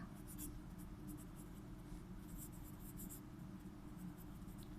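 A pen or marker scratches out a physics solution in short, quick strokes, fairly faint over a steady low hum, with no talking.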